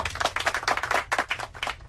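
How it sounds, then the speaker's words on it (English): A small group claps by hand in brisk, uneven bursts, close and moderately loud, with no voices over it. "Let's get a clap."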